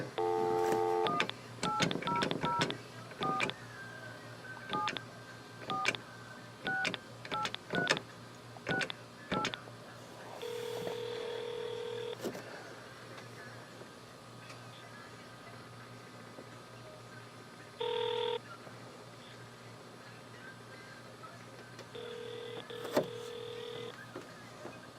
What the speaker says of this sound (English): Let me dial a number here.